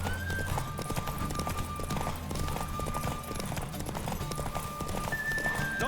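A horse races at a gallop in The Witcher 3, hooves beating in a quick steady rhythm under a game music score, with a brief neigh mixed into the busy soundtrack.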